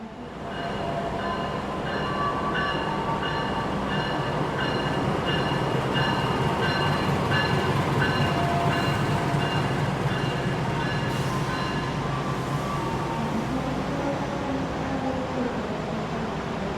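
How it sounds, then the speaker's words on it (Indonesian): Steady rumble of a KA Pasundan economy class train heard from inside the carriage, continuous rolling noise with rhythmic wheel clatter and faint squeals, no talking. "kereta api Pasundan yang saya naiki telah tiba di stasiun Walikukun"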